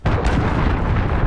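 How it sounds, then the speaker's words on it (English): A cruise missile strike detonates in a Call of Duty Gun Runner match, a loud, sustained blast with heavy low rumble and crackling debris filling the whole moment up close. "Cruise missile incoming!"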